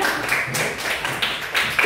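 Schoolchildren in a classroom clap their hands together in a fairly even rhythm, with repeated bursts of many small hands roughly every quarter to half second.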